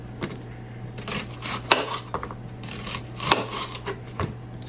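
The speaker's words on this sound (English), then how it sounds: "Now I have an onion that I also took off the outer layer of it. So I'm going to also slice that." A knife slices through an onion on a cutting board in a string of close, uneven cuts and light taps, with soft scraping between strokes.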